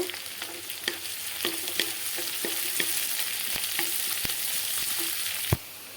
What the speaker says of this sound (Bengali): পেঁয়াজের সঙ্গে এই রসুনটাও ঢেলে দেব দিয়ে একটু ভাজা করব